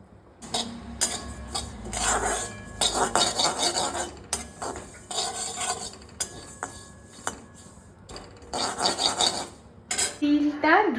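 Sesame seeds dry roasting in a pan, heard as repeated scraping and rattling of a metal spoon or spatula against the pan in irregular bursts, close and fairly loud, with no talking.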